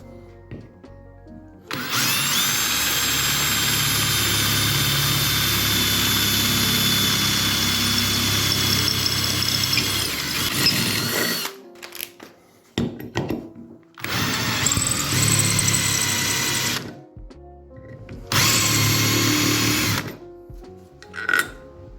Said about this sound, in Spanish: Vamos a hacer una prueba con este tipo de brocas para avellanar y vemos cómo funcionan.